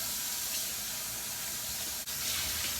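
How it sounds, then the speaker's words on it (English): Water runs steadily from a tap over cloth diapers being rinsed, a constant close hiss with a brief dip partway through and no voices. "rinse these and wring them out"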